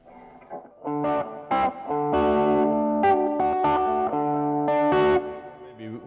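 An electric guitar on its bridge pickup plays through heavy distortion and effects, with a run of loud, bright picked notes and chords ringing close and steady for several seconds.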